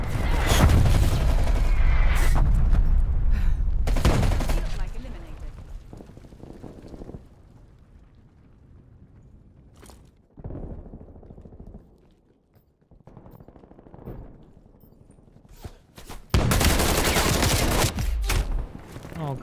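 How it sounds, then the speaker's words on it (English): Incoming artillery fire in a video game: heavy, loud booming impacts in dense bursts at the start and end, with quieter rumbling, scattered thuds and short crackles in between. "Hostile artillery targeting active. Net call, incoming artillery."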